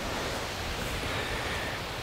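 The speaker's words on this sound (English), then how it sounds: "Kind of getting windy a little bit." Steady broadband rushing of wind outdoors, continuous and fairly soft, with no voices.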